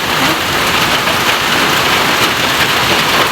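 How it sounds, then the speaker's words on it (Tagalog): Heavy, steady downpour of rain, loud and close, a dense unbroken hiss of drops with no voices over it. "Napakagrabing ulan."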